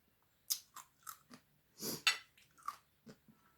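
Crispy homemade pork belly being bitten and chewed close up, a series of sharp, dry crunches in irregular bursts with quiet gaps between them.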